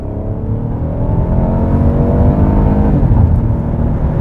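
A 2016 Lincoln MKX with a 335-horsepower 2.7-liter V6 accelerates hard from inside the cabin, its engine note rising steadily and growing louder over about four seconds with no talking.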